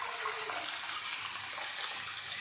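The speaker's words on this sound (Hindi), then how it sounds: "अब मैं इसमें अपने चावलों को ऐड करूँगी।" Rice goes into hot water in a pot while chicken biryani is being made, a continuous rushing, splashing water sound that stays steady and close, with no talking.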